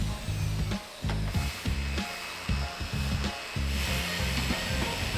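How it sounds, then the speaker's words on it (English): A Festool RO 150 random orbital sander runs in grinder mode on wood, whirring loud and close in repeated short bursts separated by brief dips as it cuts in and eases off. "breaking out the RO again, Festool RO 150, the big boy. That is in grinder mode"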